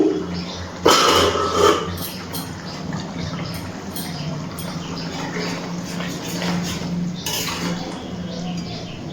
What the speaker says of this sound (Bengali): ভালো করে একটু নাড়াচাড়া করে নিচ্ছি। চিকেনটা কিন্তু খুব ভালোভাবে সিদ্ধ হয়ে গেছে।